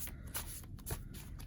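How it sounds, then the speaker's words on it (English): A large deck of tarot cards is shuffled by hand, giving soft, quiet papery riffles and slaps in quick uneven bursts close up, with no talk. "trying to shuffle such a big amount is hard"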